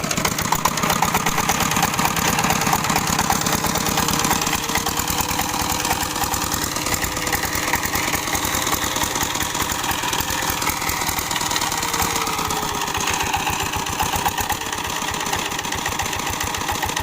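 A modified walk-behind tractor engine idles steadily while warming up, a loud continuous close mechanical chugging with a knocking rhythm that holds without pause, no voices over it.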